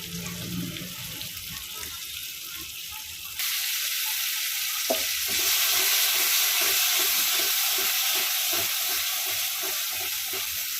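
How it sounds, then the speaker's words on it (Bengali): Tomato with onion, chili, ginger, garlic and cashew pastes frying in oil for a prawn malai curry, a steady hiss that jumps louder partway through, with rhythmic stirring scrapes in the pan and no talking. "এবার এর মধ্যে দেবো হচ্ছে টমেটো কুচি পেঁয়াজ বাটা লঙ্কা বাটা আদা বাটা রসুন বাটা একটু দিয়ে দেবো কাজু বাটা"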